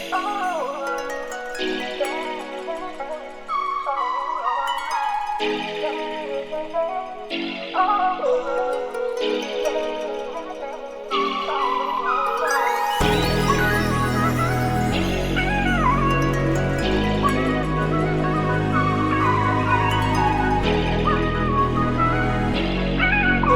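A dark RnB beat melody plays as a slow, moody sequence of sustained keyboard-like notes, starting sparse and thin, then joined midway by deep bass and fuller layered textures that continue steadily to the end, with no voices.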